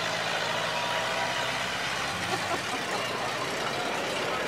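A Ford car engine running steadily at a Pig N Ford race, a constant, fairly faint mechanical drone with no clear revving, set against open-air background noise.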